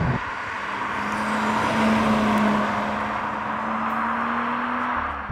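A BMW F21 M135i rear-wheel-drive hatchback drives on a UK road in Sports Plus mode, its engine a steady droning hum with rising and falling revs and road noise, heard alone for about five seconds.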